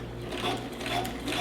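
A sewing machine stitches an elastic waistband, a fast, even mechanical whirr with steady rapid clicking, close and continuous for a short run with no talking.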